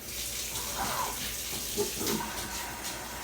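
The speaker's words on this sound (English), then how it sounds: "Oh, no, I need to get water in there." Water streams from a kitchen tap into a cooking pot, a steady close rushing splash that runs the whole time with faint background sounds.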